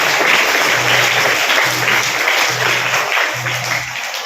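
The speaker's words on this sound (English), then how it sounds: "Let's give a big round of applause to all of them." Loud, sustained applause from a large crowd at a student representatives' oath ceremony at De Paul School, Shrirampur, fills the space, steady throughout and tapering slightly at the end, with a faint repeating low hum underneath.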